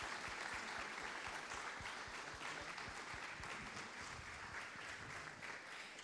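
Applause from the audience at an immunology society award ceremony, a steady dense patter of many hands clapping throughout, fairly quiet and with no talk over it.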